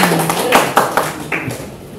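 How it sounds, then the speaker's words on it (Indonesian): Students clap in a classroom, a short burst of several sharp claps in an irregular rhythm, close and fairly loud. "Oke, tepuk tangan untuk kamu, hebat semua."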